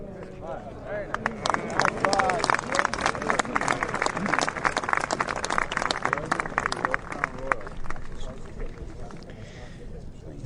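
A golf gallery at the Presidents Cup in San Francisco claps and calls out while Ogilvy's long putt rolls. A loose patter of applause and scattered voices continues throughout, with people talking nearby.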